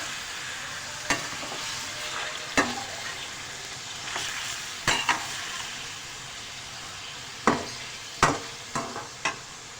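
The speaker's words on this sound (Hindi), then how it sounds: "लहसुन अदरक के अंदर चिकन को जो है अच्छे से फ्राई करेंगे सबसे पहले।" Chicken fries in garlic and ginger, with a continuous close sizzle and crackle broken by several sharp scrapes and taps of a spatula stirring the pan, and no voices.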